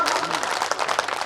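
A hall audience claps, a brief dense patter of applause that stays fairly even across the moment.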